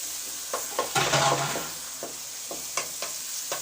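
Chicken fries in oil in a karahi, a constant close sizzle punctuated by rhythmic spatula scrapes and taps about every half second, with no voices.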